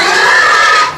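An American SGI Landrace pig gives a single loud, harsh squeal close by, lasting about a second before cutting off.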